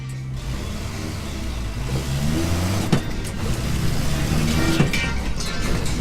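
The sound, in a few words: Toyota-powered Willys jeep accelerating through gears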